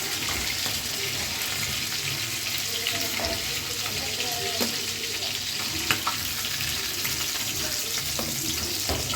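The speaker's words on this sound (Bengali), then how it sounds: "মাছগুলো ভাজা হয়ে গেছে," Pieces of fish frying in plenty of oil, a dense, continuous sizzle and crackle that runs evenly throughout, with occasional small pops and scrapes.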